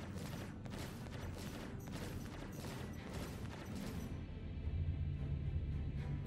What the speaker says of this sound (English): these laser cannons fire slow, but they seem to do a lot of damage